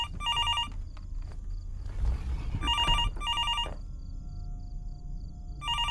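A telephone rings repeatedly in clear electronic bursts, three rings with pauses between, against low background rumble and faint footsteps in the horror game Fears to Fathom: Norwood Hitchhike.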